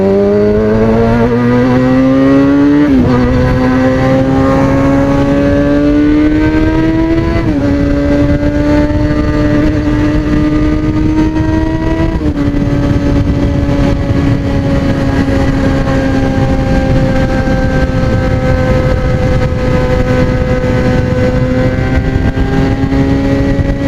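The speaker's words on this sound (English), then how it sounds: "I swear this pipe just makes the most perfect exhaust note with this bike" A motorcycle engine drones steadily and loudly throughout, its exhaust note rising in pitch with a few shifts, then holding a continuous rumble.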